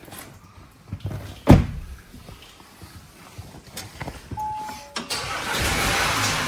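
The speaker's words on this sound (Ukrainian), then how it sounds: "Ну запускається машина, слава Богу" A car door thumps, then a BMW engine cranks and catches, settling into a steady running hum toward the end.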